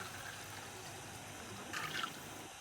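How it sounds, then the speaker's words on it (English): Water is poured into a Lay Z Spa Hydrojet pump, a steady close trickling and splashing that holds throughout with a brief brighter gurgle near the end. "Fill with water"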